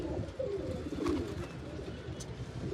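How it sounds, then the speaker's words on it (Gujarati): Pigeon cooing softly nearby, a short low coo with faint background noise, no speech. "એ કબૂતર દેખાડો એવું જા બાજુ ક્યાંક."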